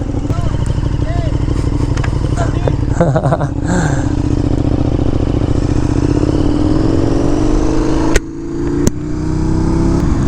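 A motorcycle being ridden, its engine a loud, steady drone with climbing pitch as it speeds up, mixed with wind rush, then a brief dip near the end.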